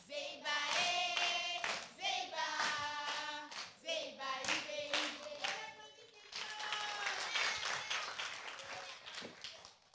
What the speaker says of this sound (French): Est-ce qu'on peut l'applaudir bien fort encore?